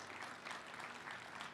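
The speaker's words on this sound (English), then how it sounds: "let's give a big round of applause for these 5 counties and what they did in their amazing projects" Audience at a farm bureau convention applauding the counties recognized for their projects, a steady wash of clapping throughout a short moment with no pause.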